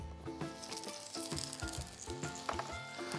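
Rabbit pieces sizzle in a light drizzle of oil in a Staub cast-iron cocotte, a loud, dense, continuous frying hiss with crackles and soft bubbling pops.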